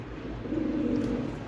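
A pigeon coos in a low, soft, continuous murmur close by at a pigeon sale, with steady background noise and no talking.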